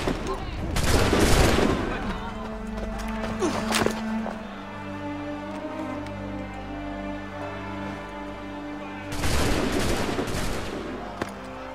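Gunfire in the video game Assassin's Creed III, two loud bursts of rapid volley shots a few seconds into the passage and again near the end, separated by a quieter stretch of droning game music and ambience.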